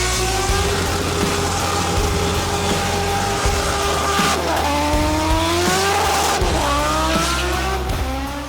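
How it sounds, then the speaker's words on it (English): Drift cars' tires squeal loudly and continuously over roaring, revving engines at the SEMA show, the screech rising and bending in pitch as cars slide close by. "drift cars and hot rods massacre their tires daily"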